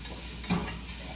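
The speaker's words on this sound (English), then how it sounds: "We gotta get this sausage cooked first." Sausage for Zuppa Toscana sizzles in a pan, a brief, soft, steady frying hiss with one small scrape or stir partway through.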